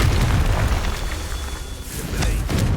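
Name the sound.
Confringo fire spell blast, Hogwarts Legacy video game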